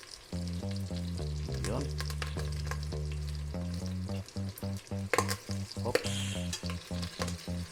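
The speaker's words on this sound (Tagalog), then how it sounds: "dapat ingat kasi nito maiwasan na tatalsik-talsik dahil sa mantika" Pork pieces frying in hot oil for sizzling pork sinigang, giving a loud crackling sizzle with bursts of splattering pops, and a voice briefly speaks over it.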